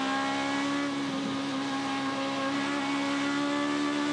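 An Aussie Racing Cars race car circulates at Hidden Valley, its engine holding a loud, steady high-pitched drone with a slight dip midway, no voices.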